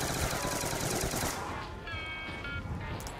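Rapid gunfire crackles in a dense, loud burst in Black Ops 2 Nuketown Zombies, fading into scattered shots and electronic game tones.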